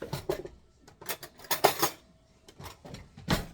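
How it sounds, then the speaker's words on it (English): A fork scrapes and clinks around a Tupperware container while stirring blueberry mug cake batter, giving a run of irregular close taps and scrapes with short pauses between strokes. "So we're just going to stir this up."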